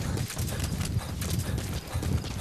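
Fast, steady hoofbeats of a horse galloping in Metal Gear Solid V, close and loud, drumming continuously throughout.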